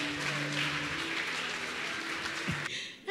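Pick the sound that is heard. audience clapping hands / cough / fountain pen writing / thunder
audience clapping hands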